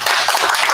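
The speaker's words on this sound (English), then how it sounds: "can we give them a round of applause?" Seminar audience giving the speakers a round of applause, a dense, steady wash of many hands clapping at close range, loud and even throughout with no talk over it.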